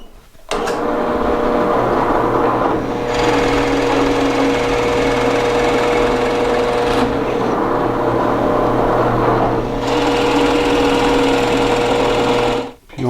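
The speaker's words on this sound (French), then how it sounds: "On va maintenant mettre une mèche de diamètre un peu plus grand." An electric drill fitted with a larger-diameter bit bores a wide hole, its loud, steady motor whine running close and continuous for about twelve seconds, with slight dips in pitch along the way before it cuts off.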